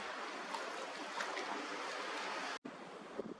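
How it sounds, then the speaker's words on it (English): Sea water washing and splashing around a buoy offshore, a continuous soft surf hiss heard from a distance and fairly faint, with a brief dropout near the end. "I used the zoom of my camera to identify a buoy splashing about in the water."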